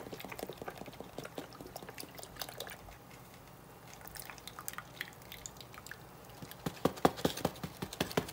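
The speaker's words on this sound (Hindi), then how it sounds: "अब मैं इसमें डाल दूँगी हाफ़ एंड हाफ़ क्रीम।" Half and half cream is poured into carrot halwa cooking over medium heat. Faint liquid trickles and drips mix with soft bubbling crackles, growing busier at the end.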